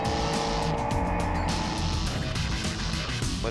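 A Mercedes-AMG GT3 race car roars at speed on a circuit, engine loud and steady with quick upshift breaks and a hint of tire scrub, close and dominant throughout.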